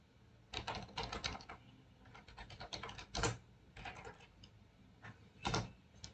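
Someone typing a configuration command on a computer keyboard for a Cisco router, quick clusters of key clicks close up with brief pauses between bursts and no speech.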